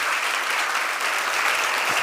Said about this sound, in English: another round of applause by the way